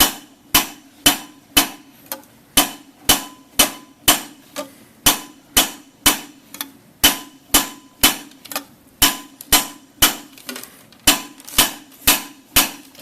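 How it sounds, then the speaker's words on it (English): A hammer strikes a copper bowl being raised over a metal stake in steady, evenly spaced blows, each a sharp ringing clang that decays quickly, about two per second, close and loud with no speech. "I'm just hammering up a little further."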